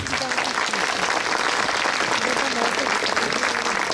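Dense, steady applause from a concert audience welcoming the Lozan Mübadilleri Vakfı choir in Büyükada, filling the whole stretch evenly at moderate loudness with no pauses.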